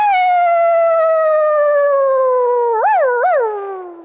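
A person imitates a wolf howl with a single long, pure tone that slides slowly downward, wavers twice near the end and then fades, with nothing else around it.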